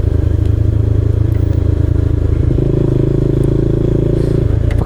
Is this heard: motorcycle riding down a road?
yes